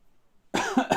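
After a brief silence, a single close cough bursts out in two quick, harsh pulses.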